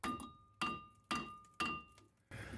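A hammer strikes a rusty wheel hub during a wheel bearing job on a 2006 Chevrolet HHR. Four loud, evenly spaced blows ring out, each a sharp metallic clang with a ringing tail, and a fifth hit begins at the end.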